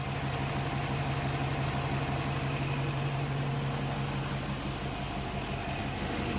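A 2019 Dodge Durango R/T engine idles steadily while warming up, a constant low hum with a strong droning tone underneath and an even mechanical wash on top, with no voices.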